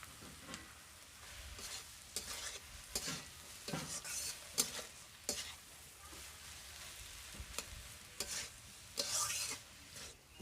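Ground green chilli paste, made on a grinding stone, goes into a hot pan while a spatula stirs and scrapes. Repeated metallic scrapes and clinks fall in an uneven rhythm over a faint sizzle, close by, with no voices.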